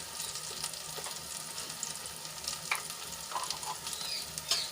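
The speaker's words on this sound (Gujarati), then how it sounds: "બધા મસાલા સરસ રીતે આપણે સાંતળી લઈશું" Chilli powder, coriander-cumin powder, salt and garam masala sautéing in a pan, a steady close sizzle with occasional scraping stir sounds and no talking.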